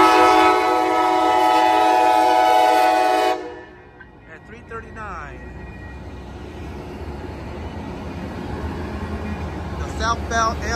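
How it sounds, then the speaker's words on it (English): A loud, sustained horn from an Amtrak Coast Starlight passenger train blares for a few seconds and cuts off, leaving the rumbling clatter of the passing train with faint squeals, in Oakland, California. "Southbound Amtrak Coast Starlight, train number 11, going to Los Angeles."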